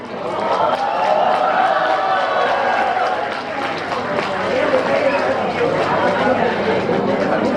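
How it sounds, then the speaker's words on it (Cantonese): Wedding guests cheering and calling out together, a loud continuous crowd roar with chatter mixed in, sustained throughout. "大家今次唔好俾掌聲，叫多啲歡呼聲"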